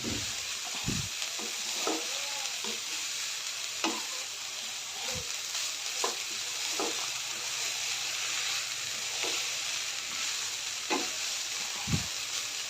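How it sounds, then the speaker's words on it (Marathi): Grated amla (Indian gooseberry) sautés in a pan with a steady soft sizzle and hiss, broken by intermittent spatula scrapes and taps spread across the stretch, close by and with no voices. "हे आवळा चांगला परतून आवळ्याचा खीस चांगला परतून झालेला आहे"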